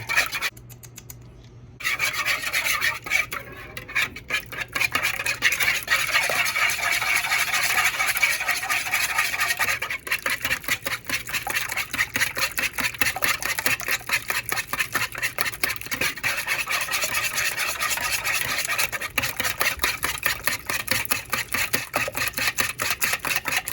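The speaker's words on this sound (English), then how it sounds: "We'll take our whisker. We'll whisk it together." A whisk scrapes and swirls steadily through a lime-based steak marinade in a bowl, a continuous close rasping texture that runs almost unbroken after a brief pause at the start.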